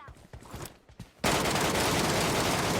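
Gunfire erupts in a video game as a sudden, loud and continuous burst of rapid shots that follows a quieter stretch of scattered game noise.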